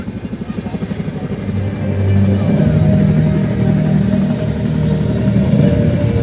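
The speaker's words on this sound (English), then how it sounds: "Look to your left as two Chinook performing the understing operations will be right in" Two Chinook helicopters pass at an Indian Air Force air show rehearsal at Sukhna Lake, Chandigarh, their rotors giving a loud rhythmic low thudding that swells and holds, with a loudspeaker voice talking in the background.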